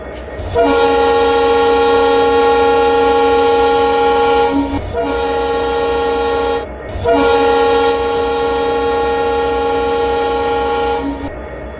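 A loud, sustained multi-tone diesel horn sounds three long blasts with short breaks from a Kottayam-Nilambur Express locomotive in the Railworks simulator, departing Irinjalakuda station, with a low engine rumble underneath.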